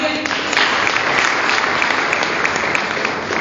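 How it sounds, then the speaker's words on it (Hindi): An audience at a business stage event gives a dense, steady round of applause, with continuous clapping throughout and no talk over it. "उनके लिए जोरदार तालियां हो सकती है।"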